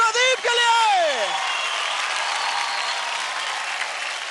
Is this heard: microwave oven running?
no